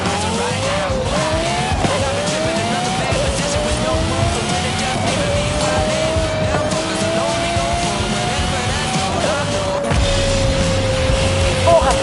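A Volkswagen Golf GTI races in Forza Horizon 5, its engine revving up and down through gear shifts with tire squeal and skidding, loud and continuous, while voices speak over it.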